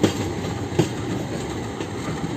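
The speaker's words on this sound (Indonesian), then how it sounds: "Nah, ini dia lokomotif penariknya" A locomotive pulls railway carriages along the track, a steady rumbling roll with faint periodic wheel clacks, moderately distant and fairly quiet, with no voices.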